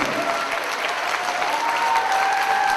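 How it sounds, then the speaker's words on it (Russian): Dense, steady applause from a large concert audience, continuous and even throughout, with a faint tone running underneath. "громкими аплодисментами"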